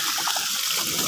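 Water pours steadily from the outlet pipe of an Ecozen SAHAJ 7.5 hp solar pump into a drum, a continuous close rushing splash with no pauses.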